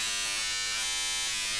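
A radio in the Titanic: Adventure Out of Time game buzzing as the channel is changed, a steady harsh electric drone, loud and unbroken for the short moment.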